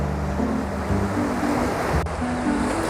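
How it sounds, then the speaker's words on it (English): Ocean waves crash steadily at Big Beach, Maui, a broad continuous surf roar with some wind across the microphone and a low tonal hum running beneath. "You can hear the waves crashing to my left there."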